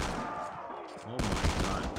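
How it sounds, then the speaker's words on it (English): Shotgun blasts in the Call of Duty Mobile zombies survival mode, dense and loud, a burst of heavy gunfire filling the whole moment, with a sharp jump in intensity midway. "What is this shotgun?"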